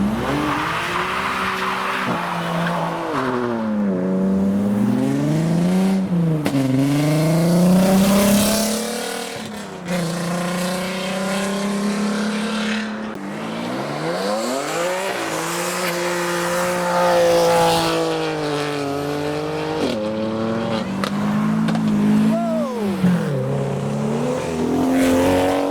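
Modified cars leave the Trax 2021 car show, their engines revving hard and accelerating in long rising sweeps, loud and close, with tire squeal and skidding mixed in.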